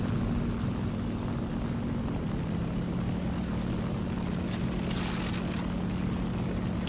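Focke-Wulf fighter plane engine in the War Thunder video game: a steady, droning propeller hum that holds constant throughout, with no voices over it.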